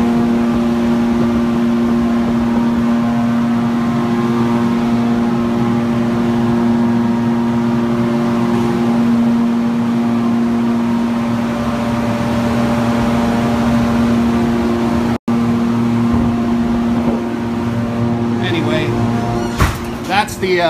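A 2.2-litre four-cylinder engine built to about 1800 horsepower runs on a dyno in a test cell, giving a loud, steady droning idle with strong harmonics. Near the end come a few sharper bursts.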